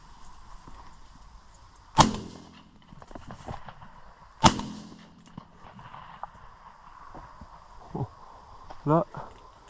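Two sharp, loud shotgun-style gunshots crack a few seconds apart outdoors while hunting crows, each with a short echoing tail, followed by faint movement and rustling.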